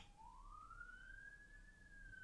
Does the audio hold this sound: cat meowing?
no